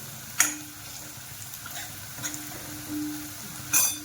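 Onion frying in a pan for a restaurant-style paneer mutter masala, a soft steady sizzle with faint stirring, punctuated by a couple of sharp clicks of a utensil against the pan, close and moderately quiet.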